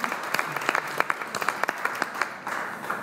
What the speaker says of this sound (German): Einen kleinen Applaus.